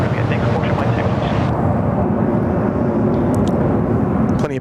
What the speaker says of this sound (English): the Emirates 380 just lining up there for Christchurch